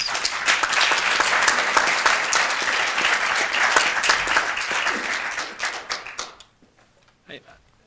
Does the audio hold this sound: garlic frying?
no